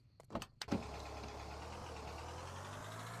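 Car in the Roblox game Barry's Prison Run starting up, with a few clicks and thumps as someone gets in, then a steady low engine hum that settles and holds.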